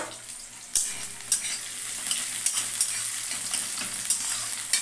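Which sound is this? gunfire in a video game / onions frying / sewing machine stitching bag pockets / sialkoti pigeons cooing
onions frying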